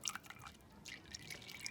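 Excess water drips from the spout of a displacement can into a beaker below during a density measurement, a few faint, sparse drips over quiet background.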